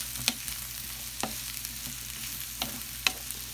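Mushrooms browning in a hot pan give off a soft, steady sizzle, broken by a few sharp clicks and scrapes of stirring at irregular intervals. No one speaks.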